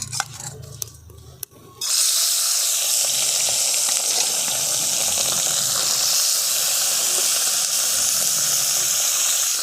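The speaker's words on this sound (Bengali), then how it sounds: "এরপর মাছগুলোকে আমি ভেজে নেব।" Small mourola fish go into very hot oil and set off a loud, steady sizzle and hiss right up close that keeps going unbroken after a few quiet handling clicks.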